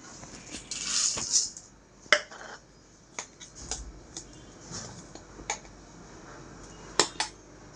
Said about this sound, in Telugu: ఇప్పుడు ఇవన్నీ వేసి కలుపుకుందాం.